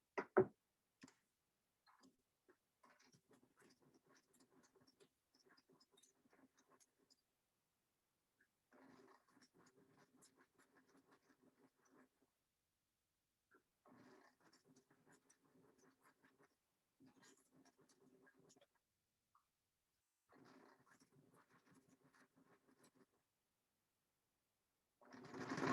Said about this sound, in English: Now I'm going to sew edge of the presser foot at the edge of my fabric again